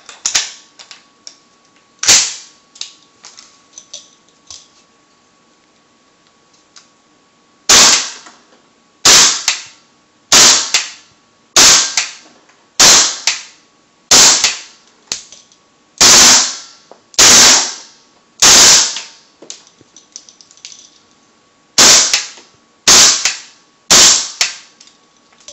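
A G&P Inokatsu 2009 custom M4A1 11.5-inch gas blowback airsoft rifle with a PMAG fires loud, sharp single shots close by: eight evenly paced reports, a pause, then three more, with a few faint clicks before them.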